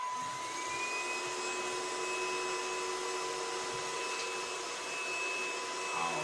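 A budget car and truck vacuum cleaner runs steadily, its motor giving a continuous, fairly quiet, high whine with an even airflow hiss and no pauses.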